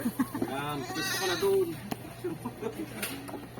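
A sheep bleats on a goat farm, a wavering drawn-out cry close by, mixed with people talking and other farm noise.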